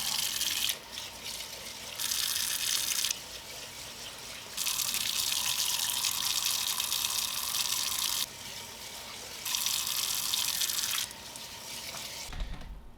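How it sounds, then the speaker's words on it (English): Water from a kitchen tap runs into a bowl of rice being rinsed, a steady hissing stream that switches on and off in several long stretches, close and fairly loud with no talking. "I want to keep rinsing the rice until most of the water is clear"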